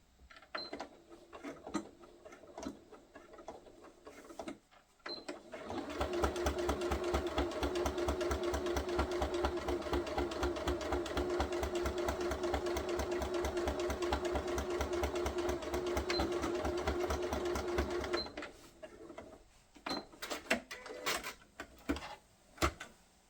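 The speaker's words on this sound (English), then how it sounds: "I'm now going to take it over the sewing machine and sew up the gap I left in the lining." A sewing machine stitches closed a gap in a fabric lining, running in one steady, continuous burst of rapid needle clatter after a few faint handling clicks, then stopping abruptly, followed by light rustling.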